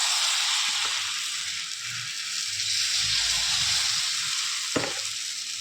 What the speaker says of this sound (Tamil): இப்போ மாவு எடுத்து தோசையாக ஊற்றிக்கலாம்.